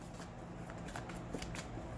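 Close, crisp riffling of tarot cards being shuffled by hand, a dense run of papery flicks and taps continuing steadily throughout, with no talking.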